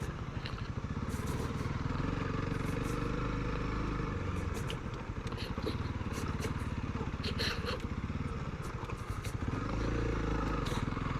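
A CRF300L or KLR650 dual-sport motorcycle runs steadily over rocks on an old abandoned motocross track in the Arizona desert, with continuous engine drone, clatter and scrapes, and a rider talking over it.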